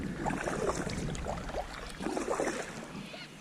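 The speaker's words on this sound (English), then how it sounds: "So we'll go for a paddle." Kayak paddling on the Murray River in South Australia: soft, rhythmic paddle splashes and water swishes close by, mixed with steady wind noise.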